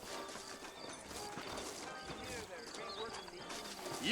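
Horse hooves clip-clop steadily in an Old West frontier town in Red Dead Redemption, a rhythmic mid-distance plodding mixed with ambient game noise and a brief whinny.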